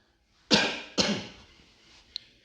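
Two soft coughs follow each other about half a second apart, slightly muffled as if turned away from the microphone, then fade into near silence with a faint small click.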